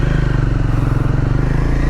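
A touring motorcycle loaded with saddle bags and a top box sets off on a road ride, its engine thumping in a loud, close, steady pulsing rhythm.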